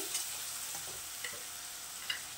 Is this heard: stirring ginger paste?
yes